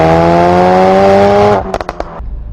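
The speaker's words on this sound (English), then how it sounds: "Pops and bangs from the exhaust." A Ford Focus RS engine drones steadily, then the exhaust lets out a quick burst of several sharp pops and bangs as it lifts off, close and loud.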